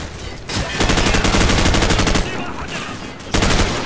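Rapid automatic gunfire from the video game Call of Duty 4: Modern Warfare, dense bursts of shots packed into a few seconds, loud and sustained, with short pauses between bursts.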